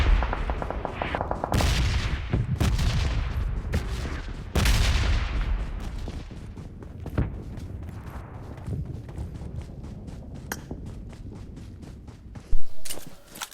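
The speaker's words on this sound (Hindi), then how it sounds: "मुझे एक साइड से फायरिंग का साउंड आता है जनाब" Gunfire in the PUBG Mobile battle royale game: loud, sharp shot bursts crack in quick clusters, with a few more scattered single shots and a close, heavy blast near the end.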